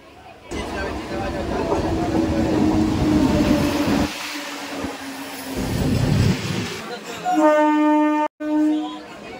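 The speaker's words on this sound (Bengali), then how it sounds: "মেচেদা স্টেশনের 4 নম্বর প্ল্যাটফর্মে ঢুকছে হাওড়া দীঘা তাম্রলিপ্ত এক্সপ্রেস।" Howrah–Digha Tamralipta Express rolling into platform 4 at Mecheda station, a steady rumble of wheels and carriages with crowd babble on the platform, ending in a sharp horn-like tone near the close.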